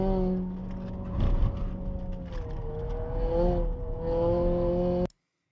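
Onboard race car engine on a lap in Curitiba, held at light, steady throttle before a curve, a smooth droning tone with slight pitch shifts that cuts off abruptly at the end.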